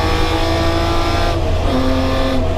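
A Charger E49 race car with a six-cylinder Hemi roars loud and close, engine note holding then shifting pitch as it climbs through gears.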